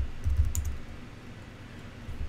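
A keyboard at a network switch console is tapped in a short burst of quick, soft keystrokes that trails into faint clicks, close and quiet over a low room hum, with no voices.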